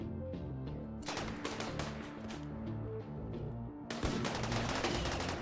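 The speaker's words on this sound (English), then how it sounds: "They're going to keep shooting at the turrets." Video game gunfire aimed at turrets: dense bursts of rapid automatic shots, loud and close, with a sustained rattling barrage that briefly thins, then a sharper burst kicks in near the end over a steady low rumble.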